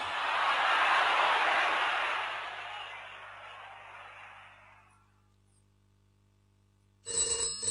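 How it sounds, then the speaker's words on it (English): A ringing telephone goes off indoors, a loud, steady bright ring holding for about two seconds before fading away; after a silent gap another brief burst of sound begins. "There's the phone."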